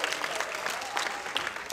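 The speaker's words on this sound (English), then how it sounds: "Please give a hand to yourselves." An audience at a comedy show claps together, with a steady patter of many hands that stays close and moderately loud for the whole stretch and has no speech over it.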